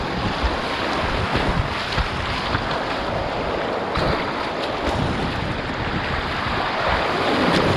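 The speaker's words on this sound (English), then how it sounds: "we're coming up on the first kind of set of rapids" River rapids rush and splash around a ZET Cross kayak in a continuous, loud broadband roar, with wind buffeting the microphone throughout.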